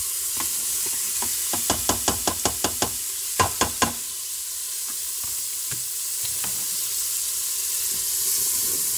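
Lardons and sliced onion sizzle in a Cookeo pot under a steady frying hiss, while a spoon knocks against the bowl in a quick run of regular taps and then a few more as the mix is stirred.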